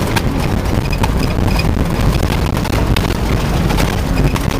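A car rattles along a dusty washboard gravel road, with loud continuous road and wind rumble and a steady clatter of loose parts, close and unbroken throughout.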